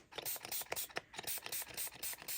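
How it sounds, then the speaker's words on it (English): A spray bottle misting water onto paint pans is squeezed repeatedly, each trigger pull giving a short, hissing burst of mist in a quick, uneven rhythm, close and fairly quiet. "I might actually spray it with water and get some moisture back in these pans"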